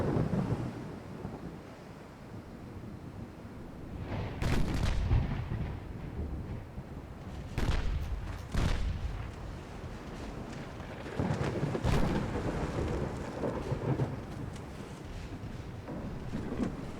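Warship guns fire in the naval game Ultimate Admiral Dreadnoughts, with several deep booming salvos rolling out over a steady rumbling wind-like background. The blasts are spaced irregularly and sound moderately distant.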